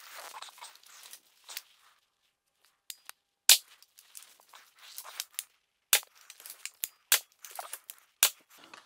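Crossbow test shots from an X-Bow FMA Supersonic Tactical: a series of sharp, dry snaps and clacks, some louder than others, scattered irregularly with short quiet gaps and light handling rustle between them.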